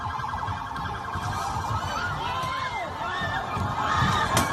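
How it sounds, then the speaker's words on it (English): Police vehicle sirens wailing and blaring as a police car approaches a large protest crowd on a New York City street, rising and falling tones over a loud, steady crowd roar. "The video on your screens show a police vehicle approaching the crowd with sirens blaring."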